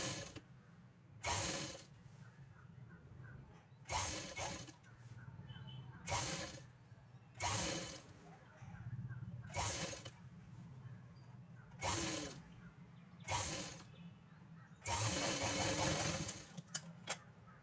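A sewing machine runs in repeated short bursts, stitching pleats into saree fabric for a child's dress. Around eight whirring runs come at a steady pace with quiet gaps between them, close up, and some talk is faintly audible.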